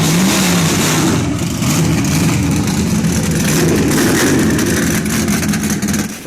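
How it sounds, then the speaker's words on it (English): A stock car engine revs hard and continuously, a loud, sustained roar with rising and falling pitch and no voices over it. "car revving up that sends shivers of joy down the spine of any race aficionado"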